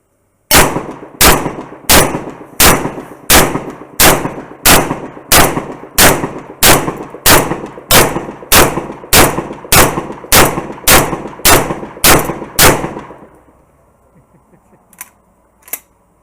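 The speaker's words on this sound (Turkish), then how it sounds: "Tayfun tamburlu şarjör. Gelmişken atmadan edemedik." A shotgun fitted with a Tayfun drum magazine fires about twenty sharp, loud shots in a steady rapid rhythm, each blast ringing briefly, followed by a few faint clicks and clinks as the shooting stops.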